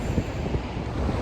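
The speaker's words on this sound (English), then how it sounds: "It's very windy out." Strong wind buffets the microphone on a beach, a dense low roar with gusty rumbling and no voices.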